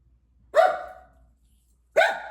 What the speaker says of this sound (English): To hear my crazy part Chihuahua dog